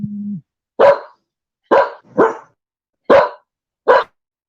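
A dog barks five times in sharp, loud bursts close by, spaced about a second apart with a quick double bark in the middle, after a brief low hum at the start.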